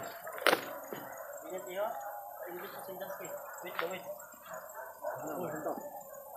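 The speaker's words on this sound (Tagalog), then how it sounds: "May mga aso." A dog yips and barks a few times at a distance, with a sharp bark near the start, amid quiet chatter and background noise.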